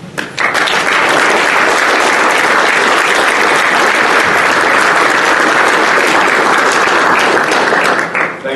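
A standing audience at a GED graduation ceremony at the BJCC gives loud, sustained applause, dense and close, swelling right away and holding steady for several seconds before tapering off.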